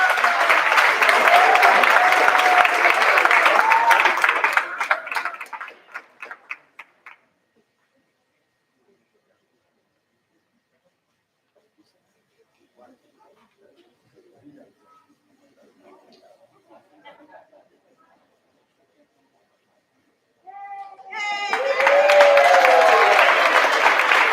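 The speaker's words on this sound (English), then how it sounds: "one more round of applause for them" A school district board meeting audience applauds 25-year service award recipients. Loud, full clapping opens the stretch and fades out, followed by a long near-silent gap with faint shuffling, then applause surges back near the end.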